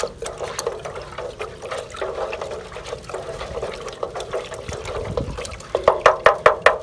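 Organic liquid fertilizer is stirred into water in a container, giving a steady sloshing swirl of liquid that runs throughout. Rhythmic splashes grow stronger toward the end, close by and with no voice over them.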